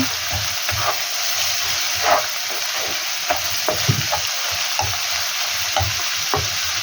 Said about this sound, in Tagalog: Medyo itos lang natin itong giniling na ito.